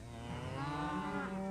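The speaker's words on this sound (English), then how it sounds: "One day, Gordon had to move cows to their new shed in Farmer McColl's field." Cattle mooing on a farm field as they are moved to a new shed, a loud, drawn-out bellow with a rising and falling tone, close and continuous.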